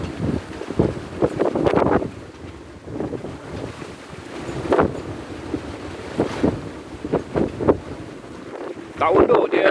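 Strong gusting wind buffets a sailboat heeled about 45 degrees at sea, with repeated roaring blasts across the microphone over a rushing backdrop of waves and water.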